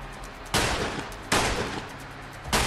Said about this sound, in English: You're really trying to hit me with the shotgun from there.